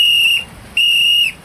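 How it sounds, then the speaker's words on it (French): Two sharp, steady blasts on a handheld whistle, each under half a second, loud and close, blown to drive off a herd of elephants in the wild. "il fallait siffler"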